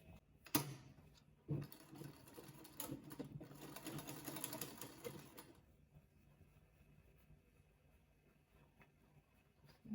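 A sewing machine stitches a bustier gown in a short, quiet run of rapid mechanical ticking that starts with a knock and stops midway, followed by near silence.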